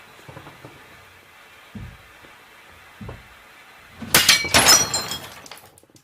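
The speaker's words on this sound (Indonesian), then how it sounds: "Cermin itu tiba-tiba pecah dengan sendirinya, seperti ada sesuatu yang memecahkannya dari dalam." A mirror shatters suddenly on its own indoors, a loud burst of breaking glass with a cascade of crashing shards late in the clip, preceded by a few faint knocks and low background hum.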